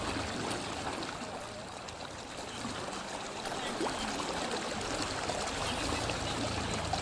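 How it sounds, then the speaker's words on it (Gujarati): Floodwater from the overflowing Jambua river in Vaghodia taluka, Vadodara, rushes across a road after heavy rain, a steady gurgling, streaming flow with no voices. "જાંબુઆ નદીના આ પાણી રસ્તા પર ફરી વળ્યા છે"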